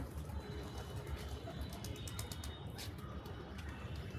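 Pigeons coo faintly in the background over a low, steady hum, with a burst of soft fluttering or rustling partway through.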